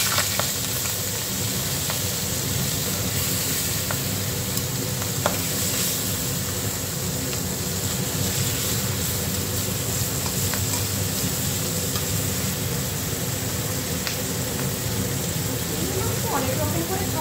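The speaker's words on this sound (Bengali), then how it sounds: "মাছগুলোকে ভালো করে ভেজে নেব।" Large prawns fry in a pan for a masala prawn dish, a continuous dense sizzle with faint scattered clicks throughout, loud and close.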